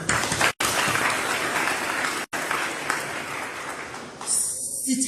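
Applause for students and their parents at a school gathering in Nkandla, a steady dense crowd clapping throughout with two brief gaps and a thinning at the end.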